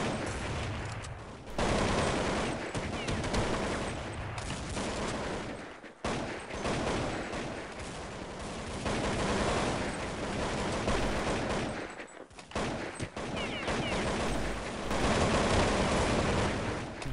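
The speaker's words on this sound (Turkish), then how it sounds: "Rastgele sıkıyorum." Sustained bursts of automatic gunfire in Counter-Strike 1.6, sprayed randomly, loud and nearly continuous with two short pauses between long volleys; no one speaks over it.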